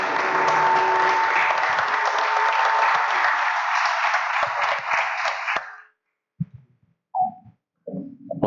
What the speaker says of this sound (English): maybe another round of applause for Alexia who just joined us.